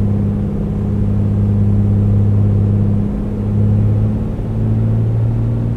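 A single-engine Piper Comanche 250 in flight simulation drones with a steady, loud, low propeller-engine hum that holds its pitch, dipping slightly and shifting tone near the middle before settling again.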